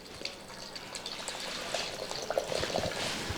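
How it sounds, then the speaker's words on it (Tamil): Juice poured from a container into a tumbler at home, a close, continuous liquid splash and trickle that grows slightly fuller toward the end, with no speech. "அதனால் நான் 1 டம்ளர் ஊற்றிக்கிறேன்."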